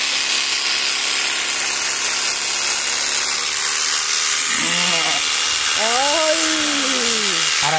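Electric shears buzz steadily through a sheep's fleece, a continuous close mechanical whine that stays level throughout, with voices talking over it near the end.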